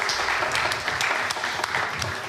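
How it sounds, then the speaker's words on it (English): Brief, moderately quiet round of applause from a small audience at a live coffee brewing event in a coffeehouse, scattered claps blending into a soft continuous patter. "Give a round of applause to Patrik, please."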